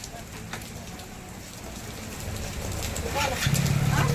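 Steady rain patters on a surface, a constant hiss that grows slightly louder, with faint muffled voices near the end.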